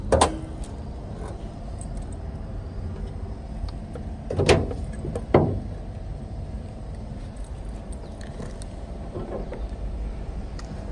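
The hood of a 2013 Hyundai Accent with manual transmission is opened: a few sharp latch clicks and two distinct metallic clunks close by, over a steady low background hum.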